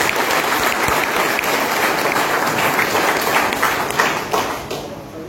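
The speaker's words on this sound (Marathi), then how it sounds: "आता जोरदार टाळ्या अजून व्हायला पाहिजे." Loud, sustained applause from a large crowd at an OBC community conference in Mumbai, dense clapping throughout that eases slightly near the end.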